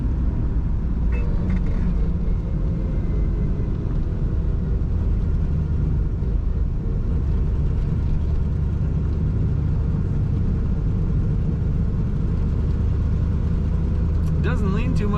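A 1963 Chevrolet Corvette split-window coupe drives and takes corners, giving a steady low engine rumble and road roar that stays loud and constant throughout, with someone talking over it.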